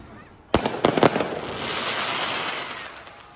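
Firecrackers burst at an evening Gudi Padwa eve celebration near a temple in Dombivli: a few sharp loud cracks in quick succession, followed by a sustained crackling roar that slowly fades.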